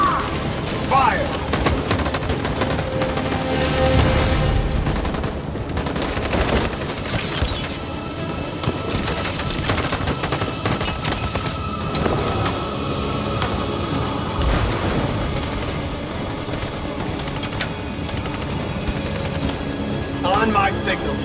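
Heavy gunfire from a battle scene in the video game Detroit: Become Human, with dense volleys and bursts of shots continuing loud throughout, mixed with shouted voices.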